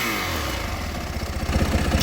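A Yamaha WR450F 450cc dirt bike engine given a light blip of throttle, a steady mid-pitched idle rising into a brief rev near the end, close by with no talking.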